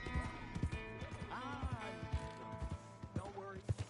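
Horse in the video game Red Dead Redemption 2, with close, irregular hoof clops and two rising whinnies heard among game effects and background music.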